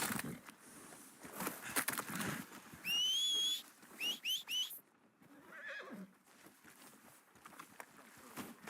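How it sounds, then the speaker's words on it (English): A horse in Red Dead Redemption 2 gives a loud, high whinny, then a shorter string of neighs, with hoof clops and a voice talking before and after. "Are you gonna mount that new horse of yours or not?"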